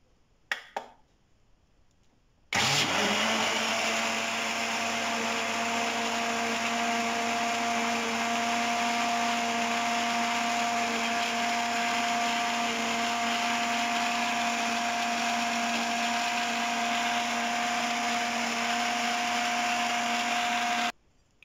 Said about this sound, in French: Et je vais le mixer dans mon mixeur.